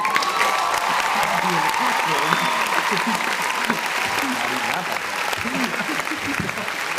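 A live crowd at a church youth gathering claps and cheers in steady, loud applause that fills the room, with voices shouting over the clapping throughout.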